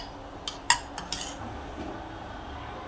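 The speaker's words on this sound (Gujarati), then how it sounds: "હવે દહીંને બરાબર હલાવીશું" A spoon stirs spiced curd for dahi tikhari in a bowl, giving a few bright clinks against the side early on, followed by quiet, soft stirring, close and with no talk.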